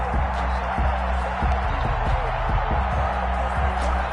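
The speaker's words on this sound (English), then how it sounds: "Crowd getting in it a bit already." Steady stadium crowd roar in an American football video game, a dense continuous wash of distant cheering with a few soft thumps underneath, constant and fairly loud throughout.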